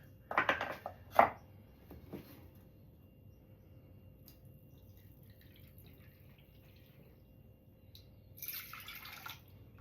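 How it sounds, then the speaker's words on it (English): Milk poured from a half-cup measure for muffin batter in a home kitchen, two short liquid splashes near the start and a brief trickle near the end, close and fairly quiet with no talk. "Okay, so 1/2 cup of milk."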